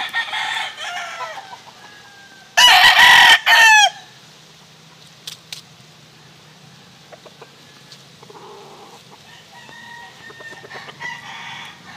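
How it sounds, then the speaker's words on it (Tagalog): In a backyard full of chickens and roosters, one rooster lets out a loud, close crow in two bursts, amid scattered clucks, softer calls and more distant crowing. "Daming mga manok dito."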